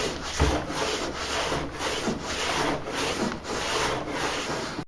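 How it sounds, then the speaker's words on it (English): Pole sander pad scrubbing dried joint compound on drywall in a tight area, a steady rhythmic back-and-forth rasp with regular strokes, close and continuous. "I want to show you how you can use a sanding pad with pole to even get a tight area"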